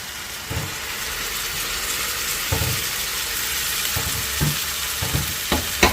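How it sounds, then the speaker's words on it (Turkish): Diced tomatoes simmering in their own juice for menemen with a soft continuous sizzle, broken by several scraping stirs of a spoon in the pan at irregular intervals. "doğradığım domatesleri ekliyorum, karıştırıyorum ve domateslerin kendi suyuyla sakince pişmesini bekliyorum"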